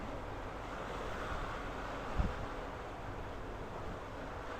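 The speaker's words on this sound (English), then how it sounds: "The waves are going good, guys." Wind and ocean surf roll on steadily as a soft, continuous broadband wash, with one brief low thump partway through and no voices.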